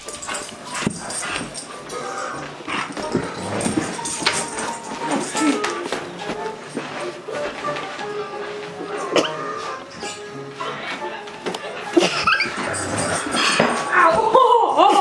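A dog tugging hard on a man's sock in a rough game of tug of war, with close, intermittent growls, snarls and yips over scuffling and rustling throughout.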